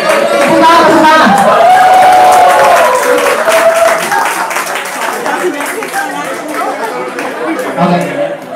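A crowd claps and chatters loudly, with overlapping voices and scattered cheers, the applause thinning out toward the end.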